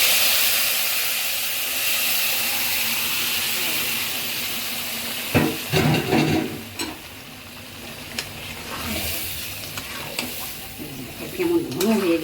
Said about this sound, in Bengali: এখন আমি নাবড়াটা ঢেলে দিব